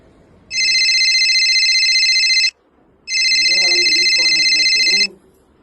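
A telephone rings loudly in two long bursts of about two seconds each, separated by a short pause, with a voice talking underneath the second ring.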